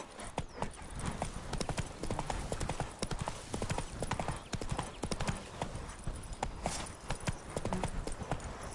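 Hooves of Roach, the horse in The Witcher 3, clip-clop in a steady, continuous trotting rhythm close up, loud and sustained throughout with a brief whinny possible amid the gait.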